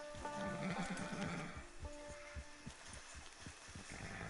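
A horse in the video game Red Dead Redemption 2 gives a faint whinny, followed by soft, rhythmic hoof thuds and quiet game ambience, low in level throughout.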